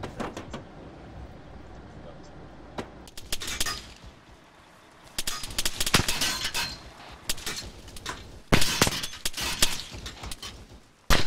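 Sporadic gunfire in an Arma 3 military simulation mission, several loud cracks and short bursts spread across the span amid rustling battlefield noise, with voices talking in between.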